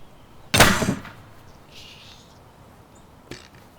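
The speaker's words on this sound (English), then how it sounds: "And now, the bolt hammer." One loud, cracking blow from a high-pressure bolt hammer striking ballistic gelatin, sounding almost like a gunshot, followed a few seconds later by a much softer knock.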